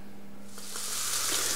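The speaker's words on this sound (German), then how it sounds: "da schmoren unsere Fuchsfilets in der Pfanne" Red fox fillets braise in a frying pan; a soft sizzle swells from near quiet into a louder, steady hiss with a low background hum beneath.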